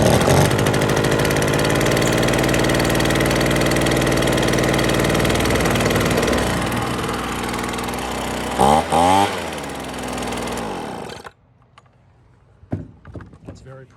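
Echo PB2100 leaf blower two-stroke engine running on half choke, a loud steady drone for about eleven seconds with a brief sputter and rev near nine seconds before cutting out, followed by faint handling noises.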